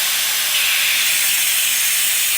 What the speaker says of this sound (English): just open it slightly. You will hear the air blow out.